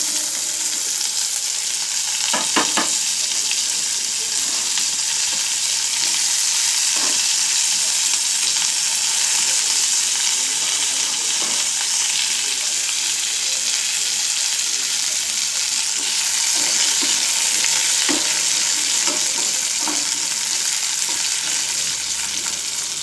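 Vegetables hiss and sizzle steadily in a hot pan while a spoon scrapes and clanks now and then, stirring at irregular intervals.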